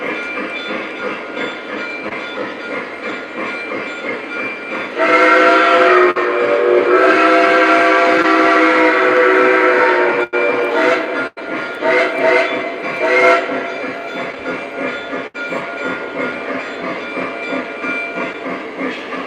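A Lionel/MTH O-scale model train, engine 765, runs with a steady rolling hum as its whistle sounds in a loud, sustained blast, followed by shorter whistle toots.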